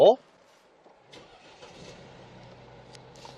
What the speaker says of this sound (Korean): 바로 시동부터 한번 걸어볼게요